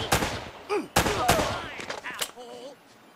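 Gunfire in the action game Uncharted: Drake's Fortune, including shotgun blasts: a few sharp loud reports spaced apart, followed by fading echoes and brief voices.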